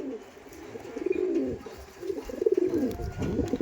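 Breeding pigeons coo close by in a loft, in two soft, throaty rolling phrases with faint background chirps.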